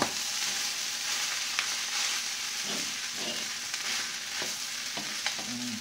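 Fried rice with fish sauce and egg sizzles loudly in a pan while being stirred, giving a steady hissing fry broken by scraping and tossing sounds, with no voices.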